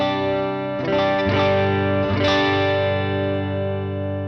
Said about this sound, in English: you get that lovely classic Marshall clean sound, which is kind of clean with a bit of hair